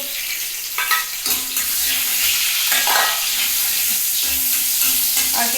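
Cumin seeds and onion fry in hot oil with a loud, close, hissing sizzle, broken by scraping stirs and a few light clinks of utensils.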